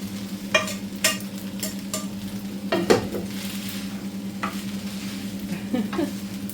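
Beef frying in a crowded pan for fried rice with leftovers: a close, steady sizzle broken by several sharp stirring scrapes and clanks of a utensil against the pan, with no voices.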